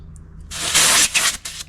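Pressurised gas hisses sharply as a fitting is screwed onto the ordinary thread of an Adventure Capital camp keg, a loud close spray lasting about a second with a couple of shorter bursts trailing off.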